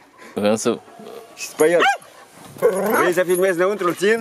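A dog barks and yelps at its kennel in a yard, several short bursts under and between people talking nearby.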